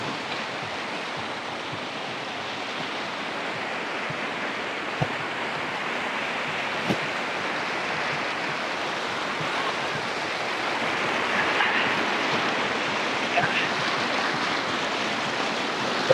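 River water rushes at the Akle river dam in Barangay Mabato, Maragondon, Cavite, a steady broadband roar of flowing current with occasional faint knocks.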